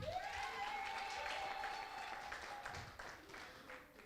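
Faint clapping from an audience at a mothers' celebration in Denver, Colorado, a soft, steady patter of hands beneath a sustained tone that gradually tapers off.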